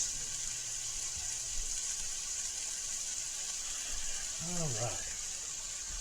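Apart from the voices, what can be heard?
tap water running while washing hands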